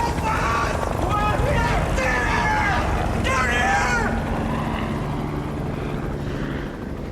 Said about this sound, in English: A search and rescue helicopter has passed within meters of the top of their canyon.